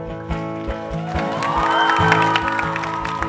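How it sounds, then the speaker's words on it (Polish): A crowd at a charity scout singalong for a girl named Nadia gives warm applause with some cheering over steady background music with a regular low beat, the clapping building and holding throughout. "Gorące brawa dla Nadii."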